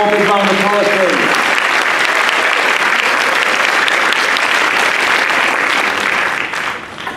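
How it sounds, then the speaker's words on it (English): An audience at a school senior sports awards night applauds, loud sustained clapping from a large crowd that fades near the end, with a voice briefly over the start. "And one more big round of applause, please."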